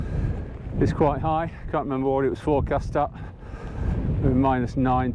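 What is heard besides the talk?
strong wind on a Scottish mountain ridge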